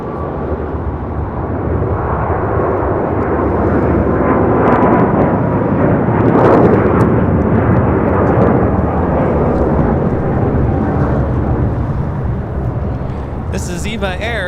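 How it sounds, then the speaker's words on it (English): An Eva Air Boeing 777-300ER takes off at LAX. It's a loud, sustained jet roar that builds to a peak midway and holds steady throughout, with background voices at the very end. "This is Eva Air, Flight 5, taking off to Taipei on a 777-300ER."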